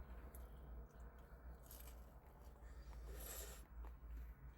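Crisp bites into fried onion rings from Dairy Queen, a few crunchy chews close to the mic over steady low background rumble.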